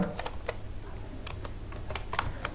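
Keys tapping on a computer keyboard while Python code is typed, a quick uneven run of close, moderately loud clicks with short gaps, no speech.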